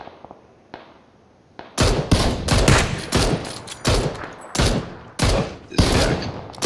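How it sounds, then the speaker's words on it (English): Gunfire in the battle royale game PUBG: after a quiet lead-in, a loud, close sequence of sharp shots and short bursts, roughly a dozen cracks spaced unevenly across the clip, with no talk. "we both shot at the same time"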